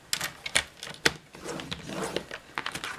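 A paper trimmer scores cardboard for a box, producing a string of sharp, close clicks and scraping strokes in an uneven rhythm, quiet and unaccompanied by talk.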